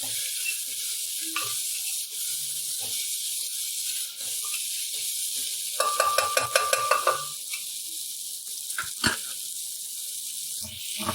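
Tomato, capsicum and other vegetables being stirred together in a pan for vegetable Maggi, with soft hissing and a burst of clattering scrapes midway, then a few isolated knocks against the pan.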